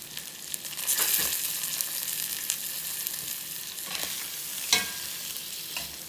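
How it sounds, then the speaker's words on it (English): Pig tails fry and brown in grease in a pan for Louisiana-style beans and rice, giving a loud, steady sizzle up close with a few sharper crackles and pops along the way, and no one speaking. "So we're just going to let our pigtails brown up a little bit before we put them on"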